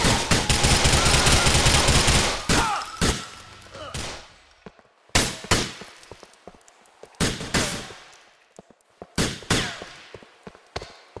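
Rapid automatic gunfire and single shots in GTA IV, a dense sustained burst at first, then scattered sharp cracks and short volleys with brief gaps, loud and close.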